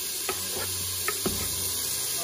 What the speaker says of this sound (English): we're going to saute the onions until they're tender